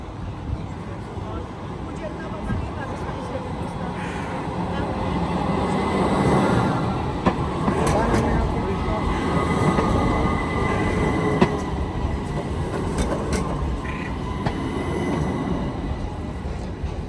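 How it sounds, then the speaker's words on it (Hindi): An electric tram approaches along a city street, its steady rail rumble and wheel noise building and holding at close range for a long stretch, with faint voices and street ambience underneath. "ये बल्कि ट्राम बिल्कुल सामने आ रही है"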